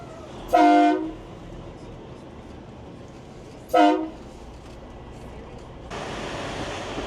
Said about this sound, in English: wanting to hear those train horns